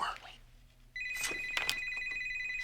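A telephone rings in a Breaking Bad episode scene, a steady electronic ring that starts suddenly after a moment of quiet room sound and continues evenly, with a few brief noises over it.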